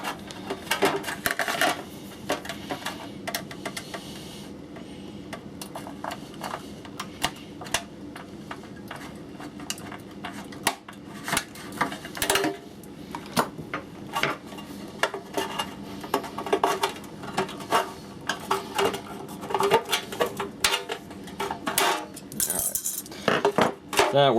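A knife cuts through the rib of a plastic rain-barrel downspout, making irregular scraping, ticking and clicking sounds with intermittent sharp snaps, close and fairly loud throughout.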